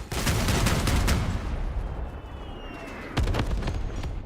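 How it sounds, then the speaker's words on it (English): Mandrake weapon in the vehicle combat game Crossout fires a dense burst of loud booming shots for about a second and a half, then a quieter mechanical reload whir follows before another heavy volley erupts. "look at the Mandrake reloading speed"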